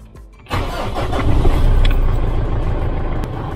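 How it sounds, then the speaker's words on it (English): A car engine cranks briefly and catches, rising into a steady running idle that stays loud and close, with no talking. "I will now start the engine."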